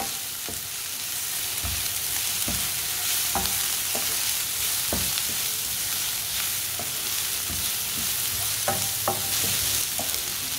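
An onion mixture with salt and black pepper stirred while cooking, a constant gentle sizzle with regular scraping and tapping strokes of a spoon against the pan, close and without talk.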